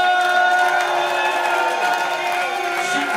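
A live audience breaks into loud, sustained cheering, whoops and applause, a dense crowd roar that holds steady for a few seconds without easing.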